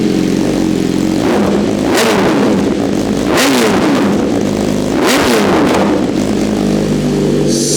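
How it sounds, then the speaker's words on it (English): A 2025 BMW S1000RR sport bike engine revs in three quick, loud throttle blips that rise and fall over a steady idle, close up and with no talking. "You can actually hear the motorcycle. Once it gets some temps, you can do some little revs here."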